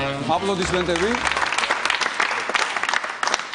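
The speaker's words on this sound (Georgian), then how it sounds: "აპლოდისმენტები" A TV night show studio audience breaks into loud, dense clapping after a brief voice at the start, the applause filling the rest of the moment.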